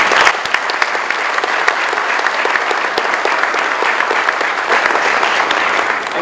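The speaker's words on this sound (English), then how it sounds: "Let's give him a round of applause." A large audience at a U.S. Army retirement ceremony claps loudly and continuously, dense applause sustained for several seconds with no speech over it.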